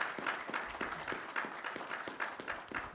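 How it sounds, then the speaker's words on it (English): An audience applauds the panelists at an automotive manufacturing conference, a steady patter of many hands clapping at moderate distance, continuous throughout without voices. "So please give a big round of applause to all our panelists."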